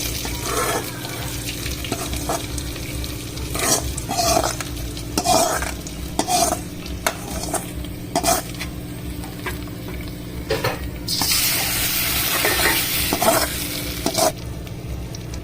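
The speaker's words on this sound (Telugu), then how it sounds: "బాగా వేయించుకున్న తాలింపుని పప్పులోకి వేసుకోవాలి" Loud oil sizzle as red-fried tempering hits the dal, with a spoon repeatedly scraping and stirring the pot, steady and close, no talking.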